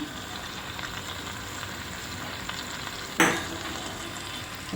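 Coriander leaves go into hot oil as tempering for a crispy potato snack, a steady low frying sizzle that jumps into a sudden sharp crackle near the end before settling, without talk.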